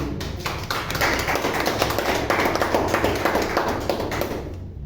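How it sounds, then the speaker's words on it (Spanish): A church congregation gives a strong round of applause, many hands clapping in a dense, even burst with sharper accents throughout, fairly loud and sustained before cutting off at the end. "Un fuerte aplauso a Jesús."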